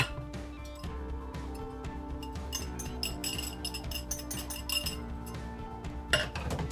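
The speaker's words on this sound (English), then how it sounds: "the next thing we're gonna add in is the egg" Dishes and utensils clink steadily and close by in a home kitchen as an egg goes into banana bread batter, with light scattered taps throughout and no talking.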